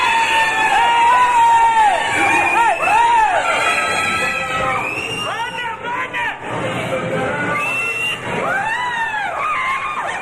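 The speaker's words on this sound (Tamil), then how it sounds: "அவர்களது குடும்பத்தினர் உட்பட பார்வையாளர்கள் அனைவரும் கரகோஷம்" A crowd at a Mister Madurai bodybuilding contest cheers and shouts continuously, with loud excited voices and whistles forming a dense, sustained roar throughout.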